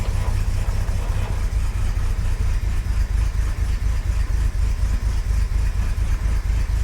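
A small engine idles with a manual choke fitted and a carburettor that has not been tuned. It gives a loud, close, steady low chug with a fast uneven pulse and no change in revs throughout.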